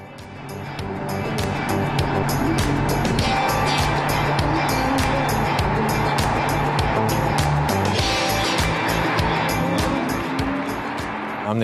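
An Audi R8 e-tron electric sports car drives hard with a continuous loud whir, tire noise and repeated sharp clicks or squeals over roughly twelve seconds, with no talk.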